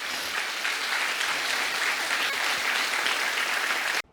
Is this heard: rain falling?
no